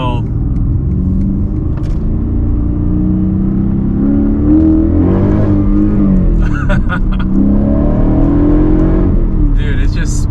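Modern Mercedes CLK550 with a quad-cam M273 V8, converted to a factory six-speed manual, revving hard and climbing in pitch as the wheels spin, loud and close, with voices over it.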